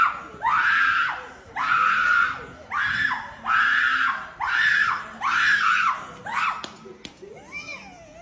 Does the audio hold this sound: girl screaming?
yes